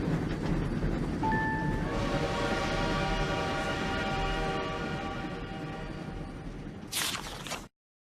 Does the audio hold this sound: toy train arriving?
yes